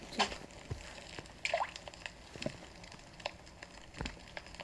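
Water sizzling in the survival game Raft, heard as scattered wet pops, drips and squishy crackles at an uneven rhythm, close and fairly soft, with no talking over it.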